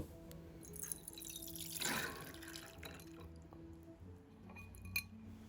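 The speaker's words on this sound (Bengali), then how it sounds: "এবার সাবুগুলোকে আমি ছেঁকে নেব।" Washed sabudana (tapioca pearls) draining through a strainer, with soft water trickling and dripping, a brief rush of pouring near the middle and light clinks of the strainer against a bowl.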